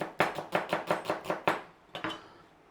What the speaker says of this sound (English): turn your onion round and just slice it